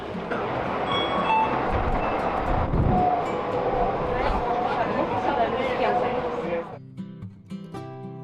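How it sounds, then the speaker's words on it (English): Steady rumbling ride inside a Dubai monorail train, a continuous rolling drone with faint whine and rattle throughout, easing to a quieter hum near the end as the car slows. "There are many means of transportation in Dubai, and one of them is monorail."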